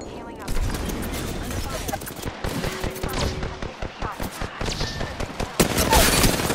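Rapid gunfire in Apex Legends, a match with a Sentinel sniper rifle: bursts of shots crackle and pop through a firefight while a voice speaks over the action.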